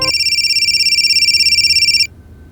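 A telephone rings steadily on the line after a blank call is placed, a clear warbling ring pulsing rapidly for about two seconds before cutting off abruptly, leaving faint background hiss.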